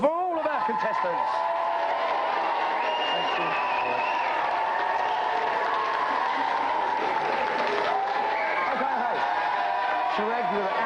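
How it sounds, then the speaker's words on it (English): A studio audience at a video game show applauds the contestants, a steady wash of clapping and crowd noise with a voice speaking over it and a few scattered chuckles, continuous and moderately loud. "let's have a big round of applause for all of our contestants"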